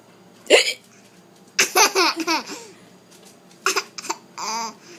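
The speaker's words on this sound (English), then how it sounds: "Baby got the hiccups." A baby hiccups in short, sharp bursts mixed with giggles and babbling, loud and close, across a few seconds.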